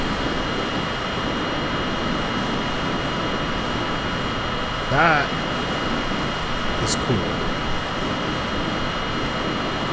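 A steady MiG-15 jet engine roar and whine in the flight simulator game FS2020 drones throughout, with a brief spoken remark midway over the constant hum.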